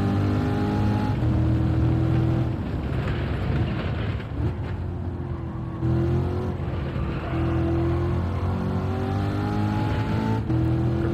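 A race car in the Gran Turismo video game, on the Laguna Seca circuit, accelerates hard out of a turn, its engine droning loud and steady with rising revs throughout.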